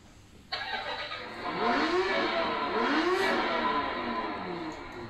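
A motorbike starts with a single button press, then its engine revs in rising and falling sweeps, moderately loud and close.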